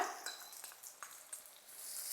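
Chopped onion dropped into a hot chili tempering for a fenugreek-leaf salad, a soft steady sizzle and faint stirring clicks, quiet and close, rising slightly toward the end.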